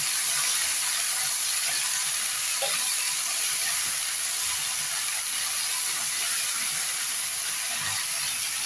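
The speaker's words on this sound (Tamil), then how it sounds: "தக்காளியும் சேர்த்து போட்டு சேர்த்து போட்டு எண்ணெயெல்லாம் நல்லா வதக்கு" Beans and tomatoes sautéing in oil in a pan for a mixed vegetable dish produce a continuous hiss and sizzle, fairly loud and close, with faint stirring and no talk.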